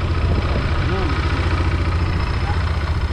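An ATV engine idles with a steady low rumble nearby in Taichung, Taiwan, running throughout, with a voice talking over it.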